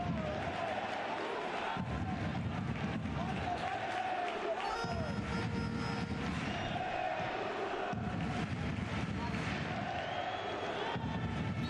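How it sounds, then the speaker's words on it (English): Football fans in the Extremadura stadium in Spain chant rhythmically during a league match against Real Zaragoza, rising and falling in waves of massed voices at a moderate distance, with a whistle-like tone briefly above the crowd noise. "The fans turning up the volume, trying to cheer their team back into this with a cry of Extremadura"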